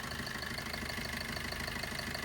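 Diesel engine of a 2017 Maruti Vitara Brezza LDI(O) idling, a steady close mechanical clatter with faint rhythmic knocking pulses, running alone without voices.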